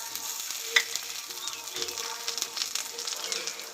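A ground paste of garlic, ginger, green chili and whole cumin fries with onions for a green jackfruit curry, giving a steady close sizzle and crackle with small stirring scrapes and a few sharp pops.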